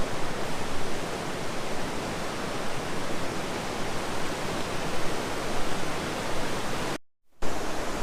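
River rushing below a suspension bridge on the Annapurna trek in Nepal, a loud, continuous broadband roar of fast water that fills the whole clip, briefly cut out near the end before resuming.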